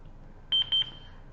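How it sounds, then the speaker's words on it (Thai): Two short, high electronic beeps in quick succession from a Boxlight CH-30W classroom speaker confirming its microphone has paired, clear and fairly close against a quiet room. "แล้วเขาก็จะมีสัญญาณเตือนว่าจับคู่กันแล้ว"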